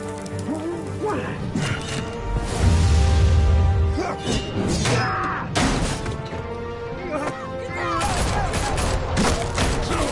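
In a Batman video game, a loud flurry of gunfire rattles with mechanical clatter and whooshes over a dense, continuous soundtrack, and voices are heard amid the shooting.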